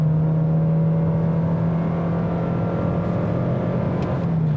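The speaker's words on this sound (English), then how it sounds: "But we'll floor it this time without brake torquing it." A 2024 Toyota Corolla Cross XSE Hybrid small SUV accelerating at full throttle without brake torquing, heard from inside as a loud, steady engine drone with a sustained whine that holds and rises slightly.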